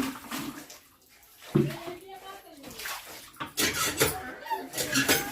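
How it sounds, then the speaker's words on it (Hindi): Dishes and a bucket being washed with water in a village home, with splashing, clinking pots and running water throughout, loud and close, while people talk over it. "ये बर्तन हम धुल रहे हैं"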